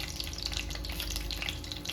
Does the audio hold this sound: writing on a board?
no